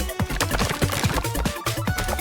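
Axes chop wood in the KPop Demon Hunters video game, with quick repeated thudding chops in an irregular rhythm against busy game music.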